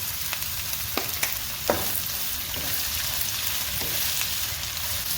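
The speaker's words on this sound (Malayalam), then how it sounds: "വെളിച്ചെണ്ണയിലേക്ക് നമുക്ക് അരിഞ്ഞു വെച്ചിരിക്കുന്ന സവോള ഇട്ട് കൊടുക്കാം. അല്പം ഉപ്പ് ചേർത്ത് നമുക്ക് ചെറുതായി ഒന്ന്" Chopped onions frying in coconut oil for chicken mappas: a steady, moderately loud sizzle with a few sharp clicks and scrapes near the start.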